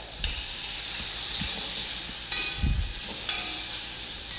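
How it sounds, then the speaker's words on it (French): Garlic clove and shallots sizzle in a cooking pot as they are stirred, with a steady hiss broken by a few soft scraping strokes and low thumps of the spoon. "La gousse d'ail et les échalotes. On remue régulièrement"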